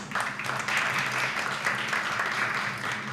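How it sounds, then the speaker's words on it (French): Audience applause at the official launch of a women's leadership for peace and cohesion project, a soft, steady wash of many hands clapping, moderately distant and continuous throughout. "Je voudrais vous demander d'applaudir encore une fois"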